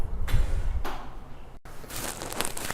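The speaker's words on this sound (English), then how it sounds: "I'm gonna open up this door." A room door is opened indoors, giving a low rumbling slide and a short knock, then a brighter rustling hiss as it swings open. No speech.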